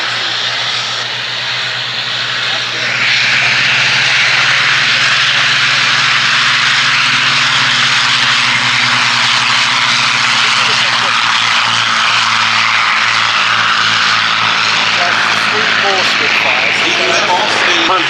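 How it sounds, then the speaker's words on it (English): A Bristol Blenheim twin-engine propeller aircraft takes off at the Duxford Battle of Britain air show, its loud engine roar rising and holding steady throughout while an announcer talks over it. "So there goes the aircraft that's going to lead our finale salute into the air, the Bristol Blenheim of the Aircraft Restoration Company"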